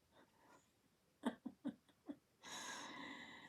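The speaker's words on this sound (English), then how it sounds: "Oh, that's the cat snoring." Faint, close breathy snores come in a few short soft puffs, followed by a longer raspy exhale; otherwise quiet.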